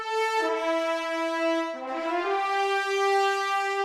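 A heroic melody played legato by a brass section of flugelhorns, Wagner tubas and French horns, a few sustained rich notes changing pitch, loud and clear with no talking.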